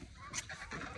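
Ducks and other farm fowl honk and squawk in a short, close burst of calls as they are driven indoors, with a few overlapping cries rising above a noisy background.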